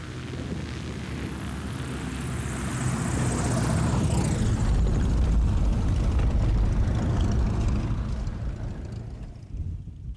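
A propeller aircraft on an aerial patrol over Mount Kenya drones steadily, swelling louder as it passes, with wind buffeting the microphone, then fades slightly.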